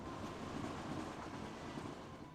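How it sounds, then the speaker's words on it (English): Tram-like train running in the video game Kingdom Hearts II, Twilight Town: a steady, low rumbling roll of wheels on rails with faint clatter, continuous and moderately quiet, heard alone with no talking. "And also, that's a pretty cool train. Tram, whatever."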